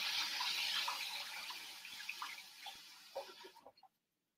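Fabric for a chalk-inked T-shirt project being pushed into water to soak: a close splashing, running-water wash that thins into a few scattered drips and sloshes before stopping.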